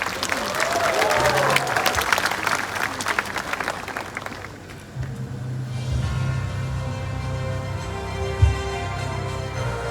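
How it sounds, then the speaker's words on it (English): A crowd applauds a guest, Miss India 2020, at a Mr Dimapur Nagaland grand finale event, dense clapping in the first half that fades out, followed by low rumbling background sound and a few scattered claps. "Shall we all receive her with a round of applause?"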